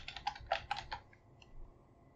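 Quick clatter of keys on a computer keyboard while entering a Minecraft command, a short burst of several taps followed by a couple of faint keystrokes.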